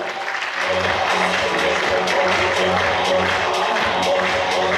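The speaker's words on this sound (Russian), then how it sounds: "Ваши аплодисменты, друзья!" Audience applause at a KVN student comedy contest, steady dense clapping from a large crowd, continuous and loud with some voices mixed in.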